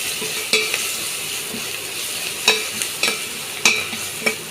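Spices tempered in hot oil for chicken rasam: a soft continuous sizzle broken by a handful of sharp, spaced clicks and taps of a ladle against the pan, heard up close without talk.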